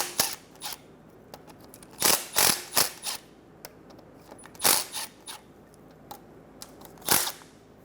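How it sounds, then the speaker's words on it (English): A wrench loosening 10mm oil pan bolts on a 2007-2012 Nissan Altima gives sharp, close metallic clicks and ratchet snaps in uneven bursts, separated by quiet gaps. "We're going to remove all the 10mm bolts around the pan. I'm just going to loosen the ones up front for now."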